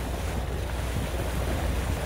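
A boat crossing wake on the St. Clair River rushes with steady wind buffeting and churning water, loud and close throughout.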